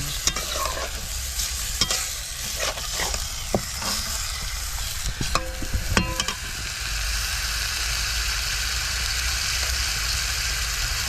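A spoon scrapes and stirs a tilapia curry frying in a pan, with a series of clattering strokes over a continuous sizzle. The stirring fades and the frying settles into a steady hiss.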